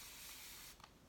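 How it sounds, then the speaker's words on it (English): A handheld spray bottle mists water onto a makeup sponge, a steady hissing spray lasting most of a second that cuts off, followed by a few faint clicks. "literally all I do is spray my beauty blender until it's damp"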